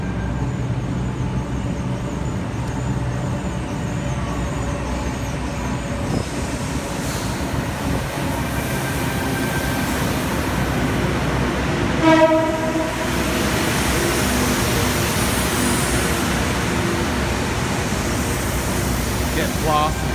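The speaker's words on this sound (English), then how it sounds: "Get blasted by the horn there." A Sydney Trains C set passes Wynyard station on the T1 North Shore Line, with a steady loud rolling rumble throughout and a short, sharp horn blast near the middle.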